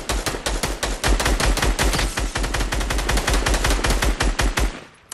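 Rapid automatic gunfire in a video game, a loud continuous stream of sharp shots firing close up for about five seconds before stopping abruptly.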